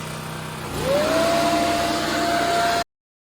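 A small engine starts up and settles into a loud, steady high-pitched whine as a leaf blower runs off a Champion Tri-Fuel generator, continuously and close by until it cuts off abruptly.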